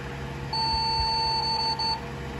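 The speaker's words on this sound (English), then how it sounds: "Yeah, it makes a beep," An old desktop PC, rescued from recycling, gives a single steady electronic beep of about one and a half seconds during its power-on self test, clear over a faint fan hum.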